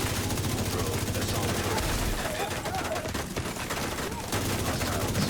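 Assault turrets firing in a video game, a loud, unbroken rapid rattle of automatic shots layered with a low pulsing rumble throughout.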